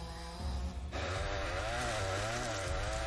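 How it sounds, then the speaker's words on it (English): A chainsaw roars continuously at close range in a wooded setting in a film, its engine revving up and shifting pitch over a dense, harsh mechanical drone. "A chainsaw in the woods."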